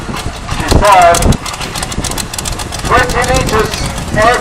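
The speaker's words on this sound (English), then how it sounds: "20 litres air-cooled Continental V8" A large 20-litre air-cooled Continental V8 engine with four Stromberg carburetors idles with a rough, rumbling chug, while someone talks over it in bursts.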